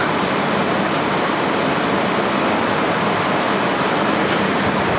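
Rushing water of the Rio di Fanes waterfalls in the Dolomites, heard near a via ferrata route: a steady, loud broadband roar that holds constant throughout with no voices.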